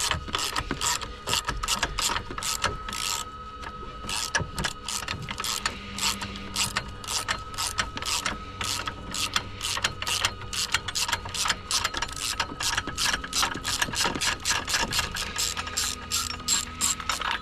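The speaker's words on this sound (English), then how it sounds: "Literally all you need is a ratchet." A ratchet with a 10mm socket clicks in rapid, steady bursts while loosening the 12V battery of a Tesla Model 3, the close, sharp pawl ticks continuing almost without pause.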